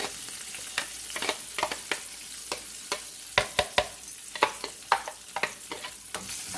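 Steady sizzling of chopped garlic frying in hot oil over a low flame, with frequent scraping clicks of a utensil stirring the pan.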